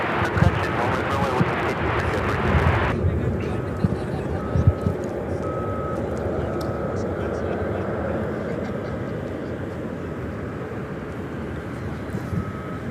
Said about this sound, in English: This flight coming in from Miami, Florida, American